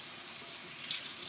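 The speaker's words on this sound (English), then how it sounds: "I'm just draining it and I'm going to shock it in ice cold water" Tap water runs steadily into a kitchen sink as blanched green vegetables are drained before being shocked in ice-cold water, a close, continuous hiss with no speech.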